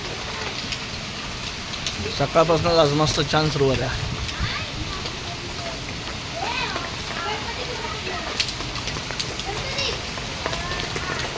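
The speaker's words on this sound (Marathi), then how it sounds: "छान असा पाऊस पडतोय कसला पाऊस पडतो आहे मस्त" Steady rain patters on surfaces throughout, with a person speaking briefly over the downpour.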